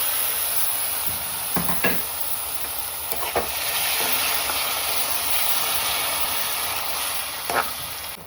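Tomato paste frying in a pan after ginger-garlic paste, giving a steady close hiss and sizzle throughout, with a few faint clinks of stirring and no voices.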